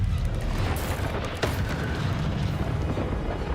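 A barrel is hurled at an Acromantula and bursts with a deep boom in Hogwarts Legacy, a single heavy blast with rumble over steady game noise.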